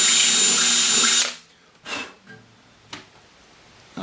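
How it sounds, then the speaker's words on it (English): A power drill with a 2-inch hole saw cuts a sound port into an acoustic guitar body, a loud high whine for about a second, then it stops, leaving a few soft breaths and handling noises. "I'm back with this 2-inch hole saw mounted on my drill"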